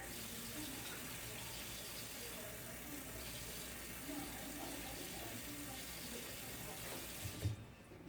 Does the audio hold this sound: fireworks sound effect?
no